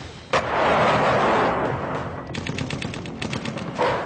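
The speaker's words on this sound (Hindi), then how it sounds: "सीमा पार से भारतीय सीमा में जबरदस्त गोलीबारी की जा रही है।" Heavy gunfire crosses the India-Pakistan border during a ceasefire violation, heard as a loud, dense roar. Rapid bursts of shots follow in quick, irregular succession, with another surge near the end.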